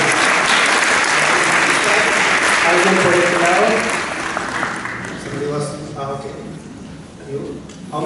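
An audience at a church gathering breaks into loud, dense applause that fades over several seconds. A voice talks over the last part.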